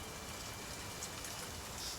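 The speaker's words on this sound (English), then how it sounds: "It's a light rain in the forest." Light rain falls in a forest in Crusader Kings 3, a soft, even hiss of drops that continues steadily and quietly with no other sounds.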